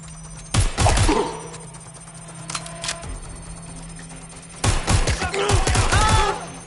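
Gunfire in a shootout in Watch Dogs Legion comes in dense clustered bursts near the start, briefly around the middle and again near the end, crackling sharply over a low background hum.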